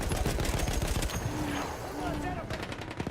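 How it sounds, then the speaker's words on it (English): A high-caliber machine gun firing in Battlefield 1, rapid rhythmic bursts of heavy automatic fire, loud and close, running steadily through the moment with a voice talking over it. "This is a very high caliber machine gun too"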